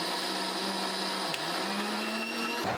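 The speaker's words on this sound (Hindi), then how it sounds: "सबसे पहले हमें दाल को पीसना होगा।" A mixer grinder whirs steadily as it grinds soaked lentils into batter for dahi wada, a continuous close motor drone that holds one pitch and stops abruptly near the end.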